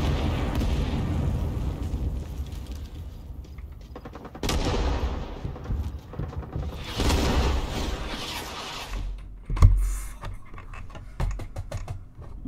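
Grenade explosions and gunfire in the video game Rising Storm 2: Vietnam, with several sharp blasts and bursts of shooting separated by quieter gaps, one heavy low boom standing out near the end.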